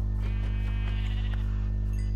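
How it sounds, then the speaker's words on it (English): A Minecraft sheep gives a single drawn-out bleat, loud and close over a steady low in-game hum, with no talking over it. "Oh, sheep. There's another one"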